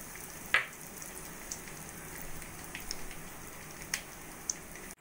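Cumin, bay leaf and dried chilli frying in oil: a faint, steady sizzle dotted with a few sharp pops, with no talking.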